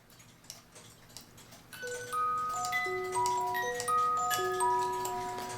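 A 1978 colorful musical cuckoo clock, its ticking mechanism faintly audible before a pinned comb begins plucking a tinkling melody of clear sustained notes, quiet and close.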